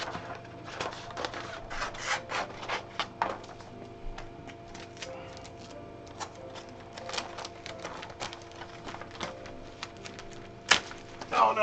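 Christmas wrapping paper being trimmed and pulled tight, close crinkling and rasping rubs in irregular bursts over a steady low hum, ending in a sharper rustle.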